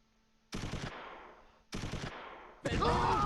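Heavy tank main gun firing in the WWII strategy game Close Combat III, set at the Second Battle of Kharkov: two loud booming blasts with long decaying tails, then a third blast mixed with a rising whine, with no talk over it.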